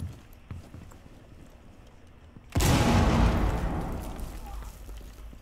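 Frag grenade detonating in Rainbow Six Siege: a sudden loud, broadband blast that cuts in after a quiet stretch, followed by a sustained rumbling, crackling decay.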